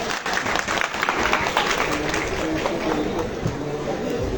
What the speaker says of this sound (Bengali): আমি একটি জোরে করতালি চাই